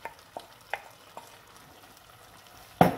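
A spoon scrapes through crushed tinned plum tomatoes in a pan, with soft strokes repeating about every half second and a louder clunk near the end.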